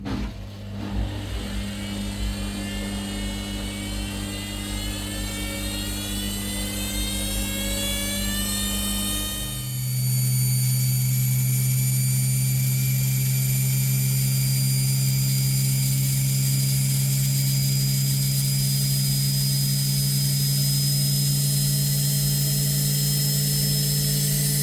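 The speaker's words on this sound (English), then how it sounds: "I've just started the spin cycle, so we'll watch and see what happens." A faulty washing machine that flashes and sparks underneath runs its spin cycle, a loud steady whine rising in pitch as the drum speeds up, then settling into a lower, constant hum with motor noise.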